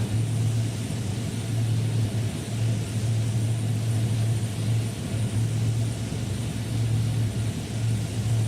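An aircraft takes off in the DCS flight simulator game, a steady droning engine roar with a low humming tone that pulses slightly, loud and continuous with no voices.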